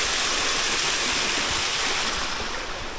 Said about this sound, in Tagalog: Then meron ditong mini falls, which is napakaganda.